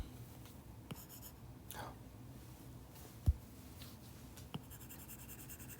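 Pen colouring in on paper while working through chemistry solutions: quiet, steady scratching strokes with a few soft taps, close to the microphone with no talking.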